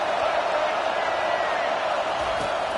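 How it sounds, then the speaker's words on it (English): A large stadium crowd at an American football game roars in a steady, loud wash of cheering to back the home defense, sustained and unbroken throughout. "Listen to this crowd just shaking the girders of this place trying to help their defense."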